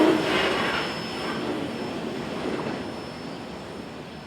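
A Chicago Fort Wayne and Eastern freight train led by GE Dash 8 locomotives rumbles by, a steady mid-distance roar that slowly fades, with a faint high whine running through it.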